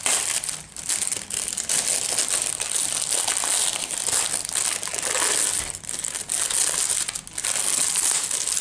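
Packaging of a diamond painting kit being opened: steady, close crinkling and crushing of plastic and paper that continues with brief dips, no talk.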